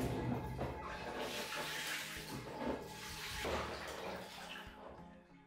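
Dirty water sloshing and draining out of the tank of a Crompton Optimus 100-litre desert air cooler as it is shaken, a continuous gurgling pour with splashy surges, close up and without speech.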